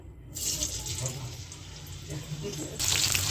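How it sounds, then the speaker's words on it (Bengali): Onion dropped into hot oil for palak paneer sets off a steady, loud broadband sizzle that holds throughout and swells near the end. "আমি এবার তেলের মধ্যে দিয়ে দিই পেঁয়াজটা"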